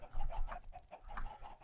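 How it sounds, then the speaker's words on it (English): Several Minecraft chickens cluck in quick, repeated bursts, fairly quiet and with no voices. "All these chickens, man, they get on my nerves."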